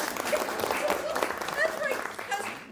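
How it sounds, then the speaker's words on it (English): Brief applause from the audience at a staged reading of Living Large, a short patter of clapping heard with voices talking over it. "Give her a round of applause, okay?"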